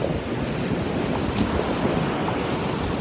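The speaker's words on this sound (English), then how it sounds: "I'm getting wet here in a way I didn't expect. I think I'm too near the ocean." Ocean waves wash onto a beach in a steady, close roar of surf mixed with heavy wind buffeting the microphone, loud and continuous without any talking.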